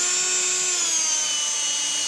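A power drill bores through a head of cabbage, giving a steady, close, continuous high whine with a sustained tone and no pauses.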